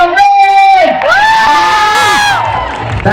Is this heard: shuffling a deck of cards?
no